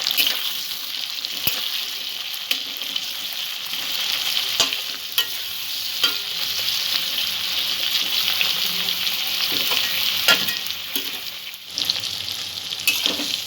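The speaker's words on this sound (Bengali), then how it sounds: "পেঁয়াজ আর টমেটো একটু নরম হয়ে আসা পর্যন্ত ভেজে নেব।" Chopped onion and tomato fry in a pan while being stirred, a continuous close sizzle broken by repeated scraping and tapping of the spoon.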